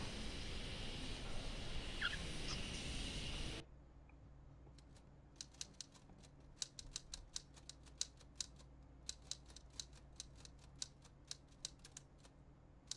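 Typewriter keys clatter in a visual novel game sound effect, sharp separate strikes coming in uneven bursts after a short stretch of louder noise at the start.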